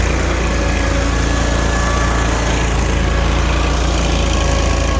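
The engine of a 61-inch Snapper Z Rider commercial-grade zero-turn riding mower runs at a steady, loud, close drone, with no speech over it.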